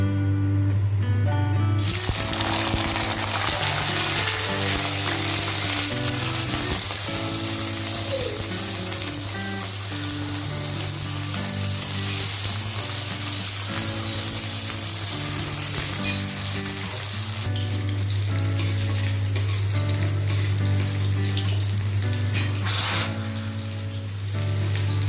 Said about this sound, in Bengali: প্রথমেই আমি আলু আর কপিটা ভেজে নেব